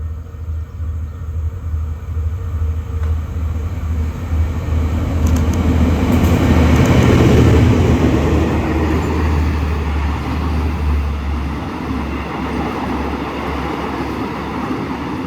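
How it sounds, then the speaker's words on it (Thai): A rapid train rumbles past at speed through a Thai railway station without stopping, the heavy roar swelling loud in the middle and fading away, with a low steady hum underneath. "ขบวนรถเข้าสู่สถานีบอตะคออีกครั้งนะครับ"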